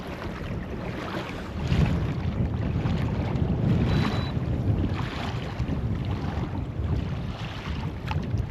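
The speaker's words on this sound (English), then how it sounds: "Man, that wind is coming good." Wind gusting over a cold South Carolina lake during a kayak tournament, a steady low roar and rumble buffeting the microphone that strengthens after the first couple of seconds, heard alone with no talk.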